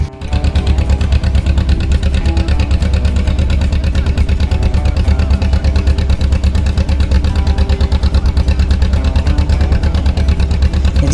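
A motorboat engine drones loudly and steadily the whole time at sea near an island, a close, continuous rumble with no pauses.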